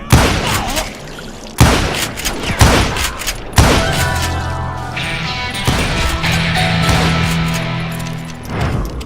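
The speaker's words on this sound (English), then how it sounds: "Kid Curry opened up on me with a goddamn Gatling gun" Gatling gun in Call of Juarez: Gunslinger firing in loud, sustained bursts of rapid shots broken by crashing impacts, with the rattling fire running almost continuously near the listener.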